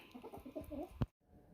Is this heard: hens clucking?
yes